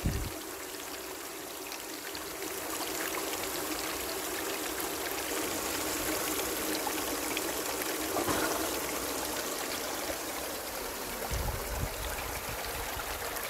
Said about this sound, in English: Now chuck the other pump on.